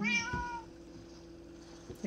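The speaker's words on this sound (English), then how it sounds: "There's a cat in there." A single drawn-out meow from a cat in the Minecraft video game, clear and fairly close, followed by a faint background hum.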